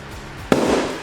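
A helium-filled balloon bursts outdoors on a beach, a single sharp, loud pop about halfway through followed by a short noisy tail, with quiet ambient background before it.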